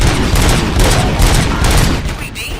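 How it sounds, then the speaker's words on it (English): Gunfire in the video game RoboCop: Rogue City, a dense, loud fusillade of rapid shots and booming impacts that rolls on without a break. "Gunshots? What's going on?"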